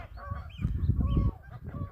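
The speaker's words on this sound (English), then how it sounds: "the birds are not happy with us being here like" Agitated nesting birds call loudly on a Scottish island off Bute, giving repeated harsh, goose-like honking cries close by, rising and falling with no talk.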